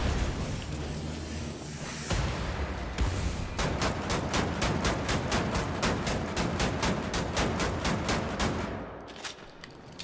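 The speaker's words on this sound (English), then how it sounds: "Does this guy ever stop shooting?" Enemy gunfire in the shooter game Wolfenstein: The New Order, long sustained bursts of rapid repeated shots that keep up for several seconds before easing off, with no talking.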